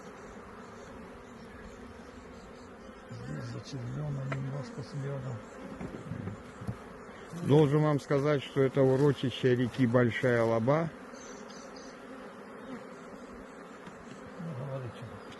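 Honeybees of a local ecotype hum steadily around opened hive frames, with a louder, dense buzzing burst midway, while someone talks over the drone.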